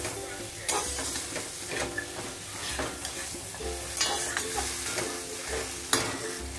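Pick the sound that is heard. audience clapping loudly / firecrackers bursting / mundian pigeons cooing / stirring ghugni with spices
stirring ghugni with spices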